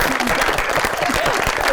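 A studio audience at a Pakistani television comedy show claps together in a brief, dense burst, with some voices mixed in over the applause.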